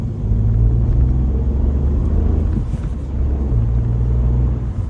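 A Peugeot 108 with the 1.2 VTi 82 hp FlexFuel engine accelerates, giving a loud, continuous low engine rumble heard from inside the car that dips briefly before building again, with no talk.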